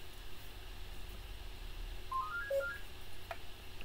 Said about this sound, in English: That's the phone that my husband will be catching